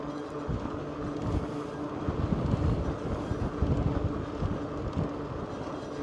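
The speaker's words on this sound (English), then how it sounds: "And a little breezy today" Steady outdoor wind buffeting a microphone, a low rumbling roar that swells and gusts throughout with no voices.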